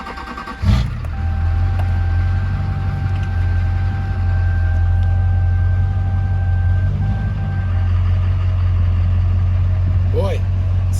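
A Duramax diesel truck engine cranks and catches at once after a glow-plug cycle, then settles into a steady, loud, close low diesel idle rumble for the rest of the time.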